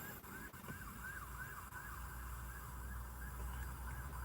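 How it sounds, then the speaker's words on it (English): A faint emergency-vehicle siren wails in a steady, repeating rise and fall, heard from a distance over a low background hum with no talking. "I thought I heard sirens."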